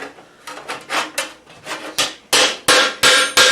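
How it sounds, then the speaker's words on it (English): A polished-face hammer strikes the edge of a metal greave in a run of close, sharp blows, softer taps at first, then louder, evenly spaced ringing hits. "I tighten it up with my polished faced hammer."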